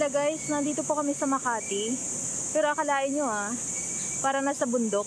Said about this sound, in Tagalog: Yung tunog ng ano, mga insekto.